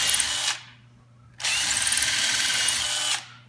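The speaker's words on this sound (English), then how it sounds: "We want to drill all the way down right till we get to that countersink area." Power drill boring holes into wood during a school tech-ed seat assembly: a short high whine, a pause with faint hum, then a longer close, loud drilling burst with fluttering pitch before spinning down.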